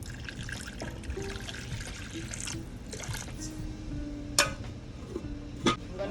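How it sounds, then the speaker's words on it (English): Warm water poured into a cooking pot while preparing Jamaican pot roast beef: a steady, close trickle and splash that runs throughout, with a few brief clinks near the end. "I'm gonna add some water to it, some warm water to it."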